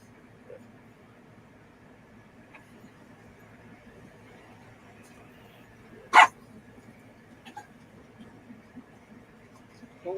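A single sharp dog bark rings out once over a quiet, faint background hum, brief and somewhat distant, with nothing else prominent around it.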